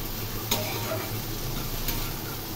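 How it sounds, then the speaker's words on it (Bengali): Mixed vegetables frying on a tawa over a low flame give off a steady close sizzle. Two sharp scrapes or taps of a spatula stirring the pan stand out against it, and no one speaks. "এই সময় লো ফ্লেমে বারবার নেড়ে নেড়ে ভেজে নিতে হবে"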